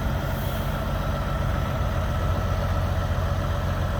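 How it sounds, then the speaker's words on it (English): A parked truck's engine idles with a steady, low, droning rumble that stays even throughout, with no talking over it. "There's the truck I'm driving."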